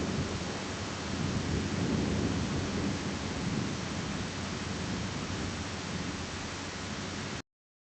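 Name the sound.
thunderstorm with rain and crashing waves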